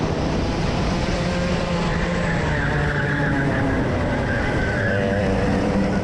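Racing karts roar past in a club race as one overtakes around the outside, with a continuous loud, buzzing engine drone and no pauses.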